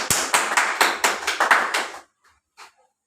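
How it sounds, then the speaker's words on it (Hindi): About eight hand claps ring out one after another in an office meeting, crisp and near, then stop, followed by silence and one soft tap. "मैं चाहता हूं उनके लिए एक जोरदार तालियों का स्वागत होना चाहिए सर।"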